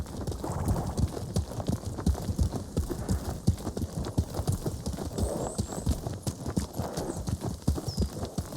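Horse hooves clip-clop at a steady canter while the horse is ridden in the video game Ghost of Tsushima, a dense and even rhythm that runs the whole time with no voices.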